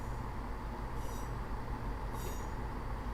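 A Class 221 Voyager train passes in a train simulator game, with a steady, loud rumbling roll and two brief high wheel squeals.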